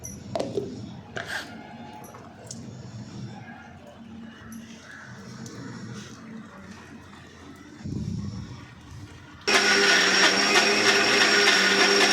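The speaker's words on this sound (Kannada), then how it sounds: "ನೆನೆಸಿಟ್ಟಿರೋಂಥ ಹೆಸರು ಕಾಳು, ಅಕ್ಕಿ ಹಾಕ್ಬಿಟ್ಟು ನುಣ್ಣಗೆ ರುಬ್ಬಬೇಕು." A mixer grinds soaked moong beans and rice into a fine batter for dosa, its loud steady motor whine starting abruptly after a stretch of quiet kitchen handling noises and continuing to the end.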